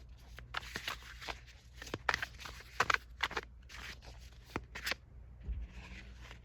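Tarot and oracle cards are shuffled and pulled in a sequence of short, crisp riffles and slaps. They are close and fairly quiet, with brief pauses between the bursts.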